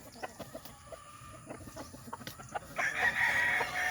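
A gamecock, a White Kelso cross, crows close by near the end, preceded by scattered clucks and soft sounds from the farmyard.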